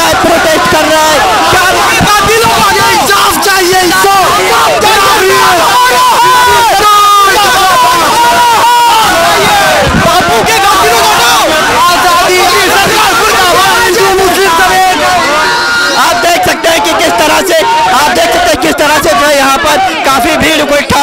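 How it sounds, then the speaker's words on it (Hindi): A large street crowd of protesters against the government in Mumbra makes a loud, dense roar of voices and chanting that runs throughout, with nearby individual voices layered over the din. "काफी भीड़ इकट्ठा हो गई है"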